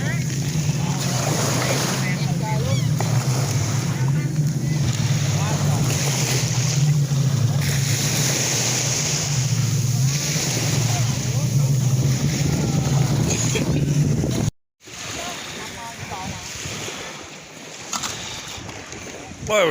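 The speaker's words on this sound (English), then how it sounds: "About 300 jet skis right here right now." Many jet skis running together on open water, their engines forming a loud, steady drone over wind and lapping waves, with a brief drop-out near the end before the noise resumes.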